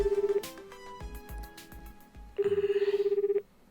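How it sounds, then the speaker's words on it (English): A phone call ringing tone in the video game 9-Nine sounds as a steady pulsing electronic trill in two bursts, a short one and then a longer one, with quiet game sounds in between. "The ringing noise continues."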